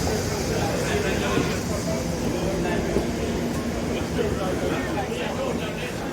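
A London Elizabeth Line train rumbles steadily, its low mechanical drone and rattle continuous throughout, with faint crowd murmur mixed in.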